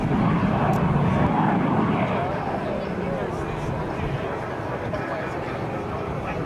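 An F-86 Sabre jet fighter roars steadily overhead during an airshow demonstration, a broad rumbling engine noise that fades slightly as it continues, with a voice talking over it.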